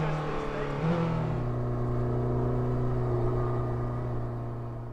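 A Porsche 963 RSP hybrid race car launches and pulls away, its engine a loud, sustained buzzing drone that climbs in pitch after the first second, then holds and fades slightly at the end.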